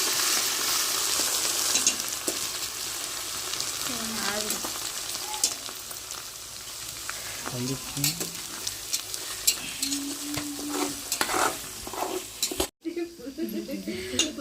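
Ginger, onion and green chilli paste frying in a pan while being stirred, a steady sizzle with occasional scrapes and utensil clinks as a voice talks intermittently over it.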